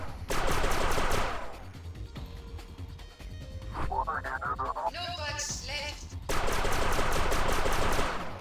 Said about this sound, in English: That's my smart bomb. Hopefully I used it at the right time.